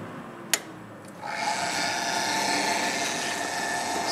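A VWR Scientific Model 1140A refrigerated water bath circulator's pump starts after a click and settles into a steady, close mechanical hum with a fine whirring whine.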